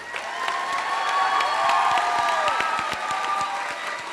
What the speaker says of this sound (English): let's have a big round of applause for this whole group here